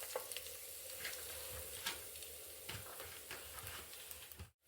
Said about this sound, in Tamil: அதை கருவேப்பிலை போட்டுறேன். பொரியுதுங்க.